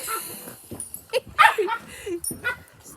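A puppy being groomed whimpers and lets out sharp yips in short, uneven bursts, with a few louder cries near the middle, while a person talks over it.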